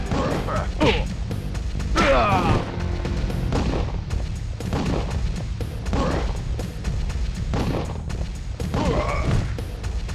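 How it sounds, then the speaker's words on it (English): Repeated heavy explosions in The Crow: City of Angels boom and crash at intervals of roughly two seconds over a continuous rumbling game backdrop, with occasional mechanical clanks between blasts. "I don't know why things keep exploding"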